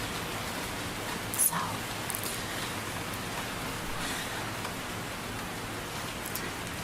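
Soft, steady rainfall makes a close, continuous hiss with no breaks, and a single spoken word briefly cuts in over it.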